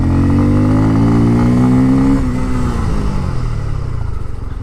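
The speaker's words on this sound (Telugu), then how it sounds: "బట్ ఎగ్జాస్ట్ నోట్ అనేది లౌడ్ ఉంది" A Bajaj Pulsar F250 motorcycle with a 250cc single-cylinder engine gives a loud, close exhaust note that holds a steady rev, then drops away into a lower, rumbling idle.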